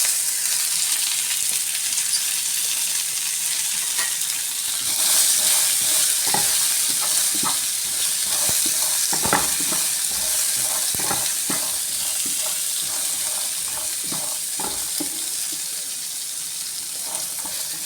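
Green peas fry in an oiled pan for egg peas masala, a constant close sizzle broken by repeated scraping strokes of a spoon stirring them throughout.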